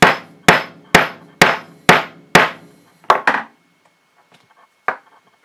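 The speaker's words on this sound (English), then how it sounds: "taking my rubber mallet" A rubber mallet striking a 6 mm hole punch, six evenly spaced firm thuds close by, then a few lighter taps and one final hit after a brief pause, with no talking.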